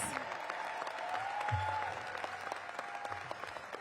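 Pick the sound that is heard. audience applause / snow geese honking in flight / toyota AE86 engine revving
audience applause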